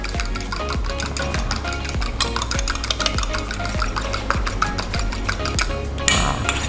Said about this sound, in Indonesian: Baru telurnya kita kocok sebentar biar lebih mudah kecampurnya